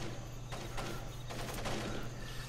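Gunfire in the stealth game Splinter Cell: Pandora Tomorrow crackles as a dense fusillade of shots, with bursts close together. It plays loud and continuous over a low mechanical hum.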